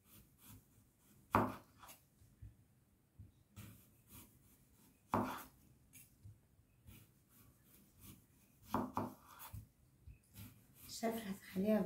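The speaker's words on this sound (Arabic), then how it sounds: "تقطعوها مثل ما انا بقطعها" A knife chops against a cutting board in scattered, quiet taps, with soft rustling and faint background sounds in between.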